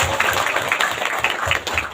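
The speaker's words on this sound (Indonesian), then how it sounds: "tepuk tangan buat santri" Applause for santri pupils at an Islamic religious gathering, a steady wash of many hands clapping close by for the full stretch without pause.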